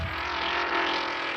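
Slot racing car running on a track in a Tokyo restaurant, a steady high electric motor whine that builds slightly and holds for a brief stretch, close and alone.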